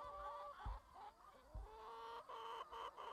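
Laying hens on a farm flock of about 750 birds cluck in soft, repeated calls with a rooster-like tone, steady and close over low background rumble.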